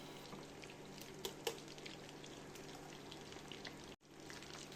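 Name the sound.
breaded fish fingers frying in a pan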